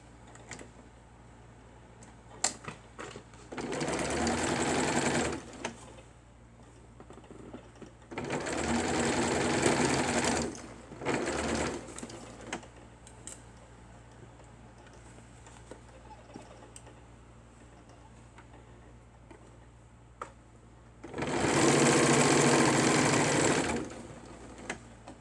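Sewing machine stitching a doll dress in three separate bursts of rapid whirring, each a few seconds long, with quiet pauses and faint handling clicks between them.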